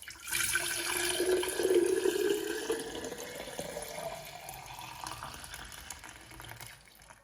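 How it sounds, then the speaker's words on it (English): Juice poured into a jug, a steady liquid gush that starts strong, then gradually thins and trails off over several seconds, heard up close with no talk. "So I have got my jug and we are gonna pour it in."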